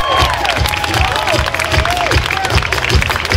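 Audience at a country band concert in Álamos applauds and cheers the band's violinist, with dense clapping and scattered shouts close by; faint musical tones or voices drift through the steady crowd noise.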